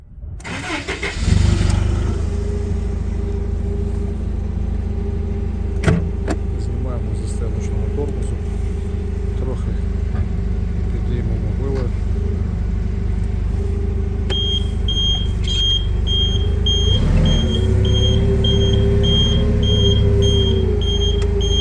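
A Toyota 02-8FGF15 gas forklift engine cranks and catches, then idles steadily and loudly close by, with a beeping alarm joining partway and a brief rev near the end. Someone talks over it.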